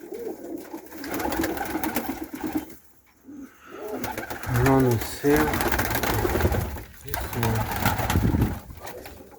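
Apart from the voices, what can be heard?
pigeons cooing, Iranian and Pakistani high-flying breeds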